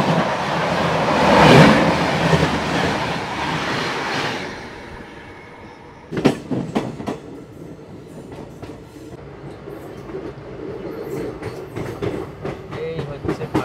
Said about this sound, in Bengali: নিউ জলপাইগুড়ি থেকে হাওড়াগামী শতাব্দী এক্সপ্রেস।